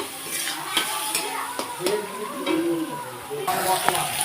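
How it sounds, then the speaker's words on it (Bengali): Spice paste with chopped tomato fries in a pan for a vegetarian cauliflower curry, crackling and sputtering under repeated close spoon strokes and scrapes, with a voice talking over it. "তো মশলাটা দেখো সুন্দর করে ভাজা ভাজা হয়ে আসছে"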